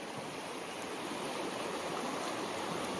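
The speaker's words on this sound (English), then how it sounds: "we have a really nice stretch of water here out in front of me" A trout stream flows past in a long, steady rush of water, loud and close, a constant broadband babble with no breaks and no voices.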